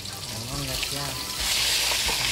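Pompano fish frying in splattering oil in a covered pan gives a steady, close, broadband sizzle that swells louder partway through, with faint tonal traces in the background.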